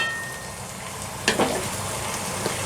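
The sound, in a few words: meat and spices frying on onions in a pot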